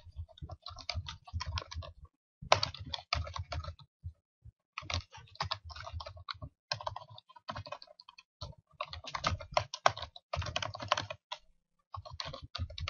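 Someone types a username on a computer keyboard in steady bursts of quick key clicks, broken by short pauses, close and clear with no talking.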